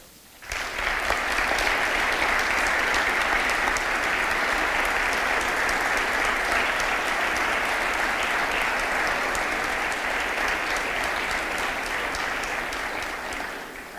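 Sustained, strong audience applause in a cultural centre during a handball club's 50th anniversary event; dense clapping starts abruptly and holds steady for over ten seconds before easing slightly.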